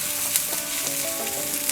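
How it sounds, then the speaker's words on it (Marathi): Chopped onion sautéing in hot oil in a pan, a close, continuous even sizzle with faint stirring scrapes throughout. "आता ह्याच्यात आपण कांदा घालायचे। कांदा छान असा परतून घेऊया।"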